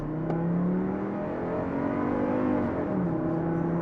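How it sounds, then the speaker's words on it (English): A tuned Chevy truck accelerates at wide open throttle, its loud, continuous engine drone climbing steadily in pitch, heard close and alone with no talking. "We're a little bit under 20 here, so wide open throttle."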